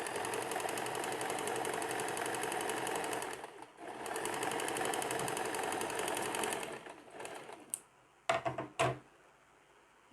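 A sewing machine stitches a pajama in a rapid, even run, pausing briefly, then running again before stopping; a few sharp clicks and knocks follow near the end.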